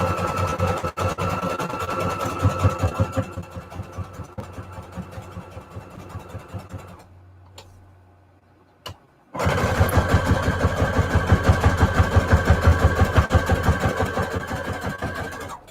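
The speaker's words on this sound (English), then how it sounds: "let's sew up those edges" A sewing machine stitches around the edges of an index card collage pocket, a steady mechanical whirring with a rapid needle rhythm in two long runs separated by a brief pause, close and fairly loud.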